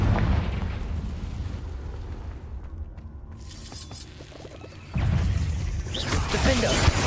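In the Hogwarts Legacy video game, a Confringo spell goes off as a loud, booming burst with crackling debris, dies down for a moment, then comes back in a second roaring blast.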